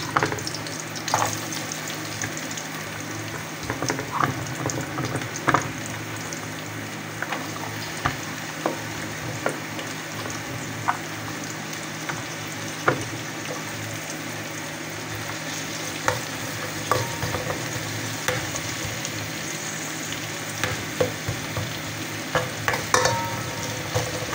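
Onion sizzling as it is sautéed in a pan with garlic for ginisang monggo, a soft continuous fry with frequent scraping and stirring taps from a spatula, close but moderately quiet, no voices.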